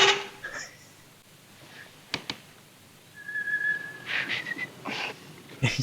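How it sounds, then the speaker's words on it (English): A man in the 1944 film Arsenic and Old Lace struggles to whistle, producing breathy, faltering attempts and one short thin whistled tone between quieter gaps, followed by a few airy bursts. "He's lost how to whistle."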